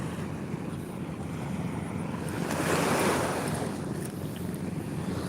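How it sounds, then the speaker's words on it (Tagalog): Waves wash onto a sandy beach shore, heard as a continuous soft surf rush with one fuller swell in the middle, partly buffeted by wind against the microphone. "Sarap maglakad dito sa may buhanginan. Dalampasigan."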